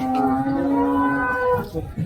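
A cow at a Bangladeshi village cattle market before Qurbani Eid lets out one long, loud, close moo that fades near the end over faint crowd murmur.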